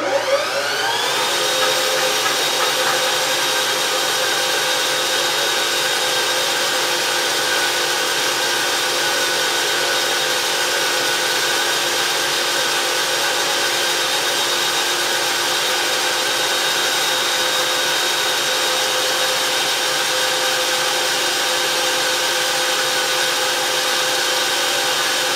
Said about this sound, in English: We have the mill slowed down to a more respectable speed. 660 RPMs.